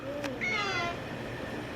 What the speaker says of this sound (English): Does the kitty say meow to Tugger?